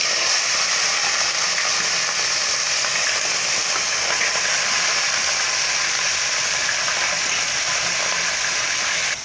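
Mustard seeds and goat intestine fry in hot oil for a Tamil kudal kulambu, a loud, continuous crackling sizzle close up with faint stirring, no talk.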